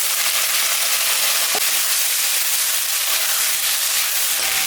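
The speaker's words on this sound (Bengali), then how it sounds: "আমি এখন আলু আর বেগুন দিয়ে দিলাম।" Potatoes and eggplant frying in oil in a home kitchen pan for a fish curry, giving a continuous loud hissing sizzle with a brief clink near the middle and no talking.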